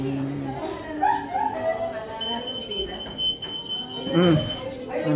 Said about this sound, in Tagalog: Nag-alarm.